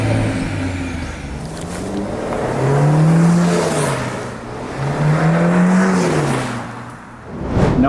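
A Mercedes-Benz C200 petrol engine is floored in third gear from about 30 km/h, the note swelling and pitch rising in two surges, loud and close, easing off near the end.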